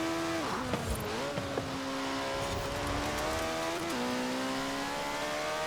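Jaguar race car in Forza Horizon 4 accelerating hard, its engine note climbing steadily with a couple of quick gear shifts, loud and close with light tyre noise underneath.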